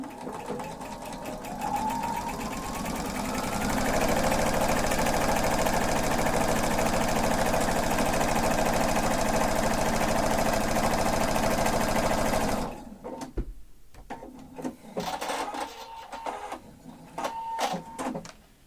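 Sewing machine stitching down the edge of a fabric planner cover, a steady loud motor whir running continuously for about twelve seconds before stopping, followed by quieter handling noises.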